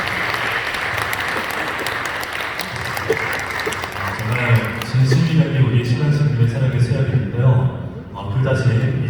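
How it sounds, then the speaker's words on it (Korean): Guests at a wedding ceremony break into sustained applause, a dense wash of clapping from a room full of people, with a voice talking over it as the clapping swells and continues. "여러분들 축하의 박수를 부탁드립니다"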